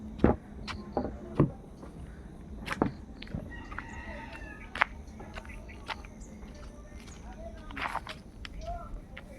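Live chickens cluck at a poultry seller's, and a rooster crows now and then over a busy scene, with footsteps and scattered knocks close by.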